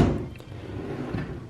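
A hotel room drawer at a resort is pushed shut, a single soft close near the start followed by faint room noise.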